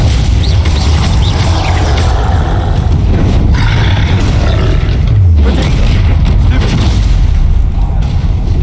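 Confringo fire spell blasts in Hogwarts Legacy land as loud, deep booms over a rumbling battle din, with a dense low roar running throughout.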